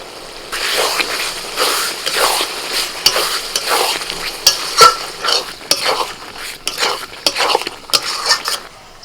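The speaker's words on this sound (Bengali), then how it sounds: "বাটা মশলা একটু সময় নিয়ে কষাতে হবে" Ground whole-spice paste with turmeric and Kashmiri chili powder being fried and stirred in a pan, a loud sizzle broken by repeated scraping and clinking of a spatula against the metal.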